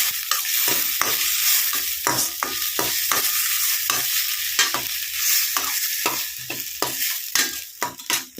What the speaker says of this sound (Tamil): ஸோ இதை அப்படியே வந்துட்டு நல்லா நம்ம வதக்கிக்குவோம்.